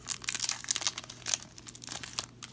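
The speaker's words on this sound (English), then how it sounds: "I've been opening up old packs recently, and it seems like the new packs, they just like easily shred." A Pokémon card booster pack is torn open by hand, giving close, loud crinkling and ripping foil in rapid bursts with no talk.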